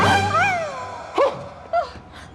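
A dog in a movie gives a short whimpering yelp with rising and falling pitch, followed by two brief higher yips, close and fairly loud against a faint background.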